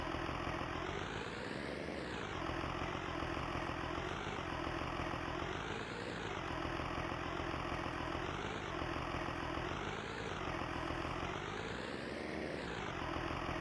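Tractor engine idling in Farming Simulator 19, a steady low mechanical drone with slow periodic swells in pitch, continuous and alone throughout.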